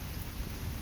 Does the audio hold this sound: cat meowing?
no